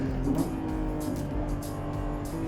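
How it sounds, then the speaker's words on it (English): A Lamborghini Revuelto plug-in hybrid accelerating hard out of a corner, a loud sustained engine drone with steady tonal whine, close and continuous. "Even coming out of the corner, just whoa, flooring it."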